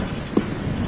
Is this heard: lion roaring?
no